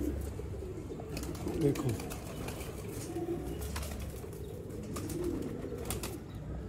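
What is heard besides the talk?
flying pigeons cooing and flapping wings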